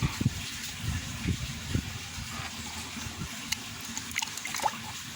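Liquid mushroom solution splashes and trickles from a watering can onto grape plants of the Khaldun variety, a steady outdoor pour with a few brief gushes and no talk.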